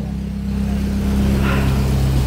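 A 1994 Suzuki Katana's 1000 cc four-cylinder engine idles steadily with a low, even hum and a slight rise in level partway through, close by with no voices.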